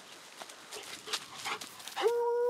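A hunting dog barks at a wild boar during a boar hunt, a few distant yelps followed by a sustained higher whining bark, faint and echoing outdoors.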